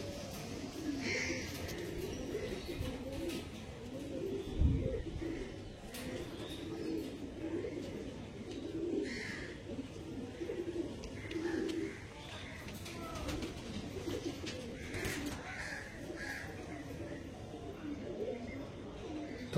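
Kalanka pigeons coo in low, repeated soft calls from a small flock, steady throughout, with occasional faint chirps and background bustle around them.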